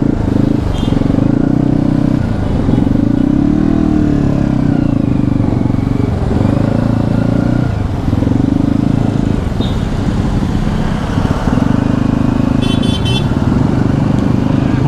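Heavy traffic jam in front of Bogor station: motorcycle and car engines idle and rev close by in a dense, loud rumble, with occasional horn toots.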